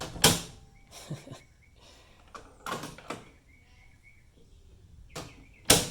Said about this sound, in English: I'll shut the door kind of hard.